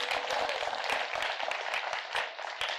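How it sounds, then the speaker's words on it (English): Audience applause at a city's State of the City address, a steady patter of many hands clapping at moderate volume, sustained without pause for a few seconds. "Round of applause for them."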